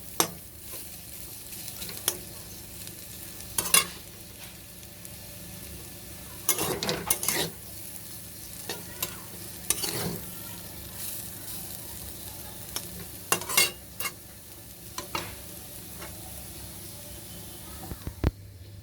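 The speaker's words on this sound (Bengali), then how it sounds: "এখন আমি আলু ভাজাটা করছি।" Potatoes frying in a pan on a home stove, a soft continuous sizzle under intermittent clinks and scrapes of a spatula stirring, some quiet, some sharper.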